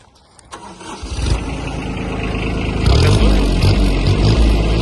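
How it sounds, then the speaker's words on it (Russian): A Kubota B52 Japanese mini tractor engine cranks and catches, then settles into a loud, steady chugging idle that grows louder. "Трактор работает мягко, чисто, хорошо."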